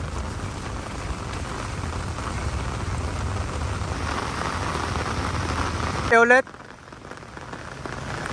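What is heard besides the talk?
rain falling by the flooded Marikina River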